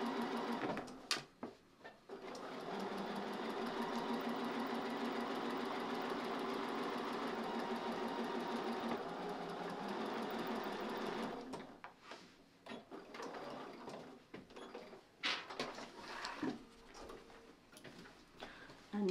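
A sewing machine runs a steady stitch along a fold line in fabric for a hanging sleeve, continuous for about ten seconds, then stops and gives way to softer, intermittent handling sounds.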